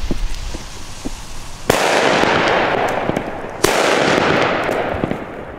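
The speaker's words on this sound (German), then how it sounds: "Wirklich unfassbar gute Böller." Rapid crackling pops chatter on, then two loud German firecracker bursts go off a couple of seconds apart, each followed by a dense spray of crackles.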